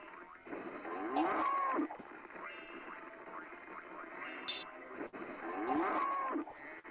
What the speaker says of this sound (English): so you have to zap these cows twice